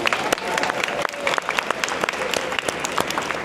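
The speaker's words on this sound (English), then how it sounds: "Let's give her another round of applause" An audience at an Atlanta real estate showcase applauds a speaker, with brisk, scattered claps forming a lively round of applause close by.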